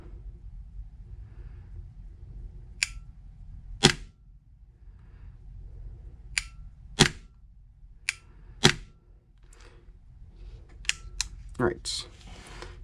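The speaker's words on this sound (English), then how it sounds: "So let me shoot it with the bolt catch held down, and then you can see the reset." Airsoft pistol shots fired with the bolt catch held down, a series of sharp, close clicking snaps at irregular intervals over a quiet background, with a few quicker shots near the end.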